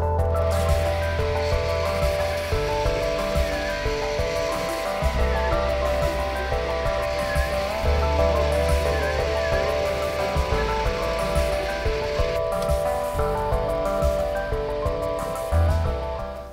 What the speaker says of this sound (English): I'm ready to export this as an STL and send it to my 3D printer.